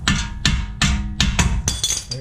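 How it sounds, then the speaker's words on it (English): A small ball peen hammer raps a stuck part in a workshop, five sharp metallic taps about half a second apart, close and loud, the last ringing slightly. "Ball peen hammer, give it a tap."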